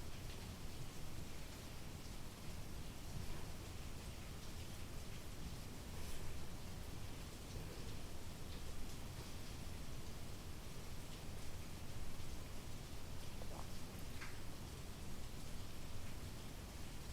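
Falling rain makes a steady, even hiss that continues unbroken for the whole stretch, fairly soft and with no talking over it.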